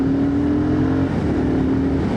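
A BSA Scrambler 650 single-cylinder motorcycle engine pulls strongly under acceleration, a steady close-up drone with a faint shift in pitch partway through.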